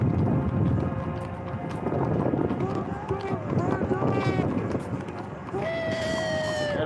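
Horses trot along a street during a convoy protest in Canberra, their hooves clip-clopping in a quick irregular patter amid crowd noise and nearby talking.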